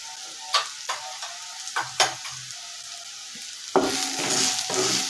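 Cauliflower tossed with chili powder and garam masala in a pan: a spatula clicks and scrapes in scattered strokes, then a louder, steady sizzle takes over near the end.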